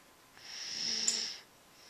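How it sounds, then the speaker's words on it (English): A young child asleep on a couch gives one soft snore, a single raspy breath lasting about a second against a quiet room. "Little bunny tuckered out on the couch, and he's snoring."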